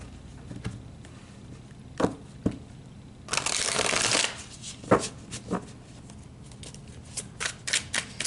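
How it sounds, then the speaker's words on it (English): Tarot cards shuffled by hand in a quiet room: a long riffling burst in the middle, framed by sharp individual card snaps and taps before and after, close and crisp with no talking. "So let's pull a few more tarot cards."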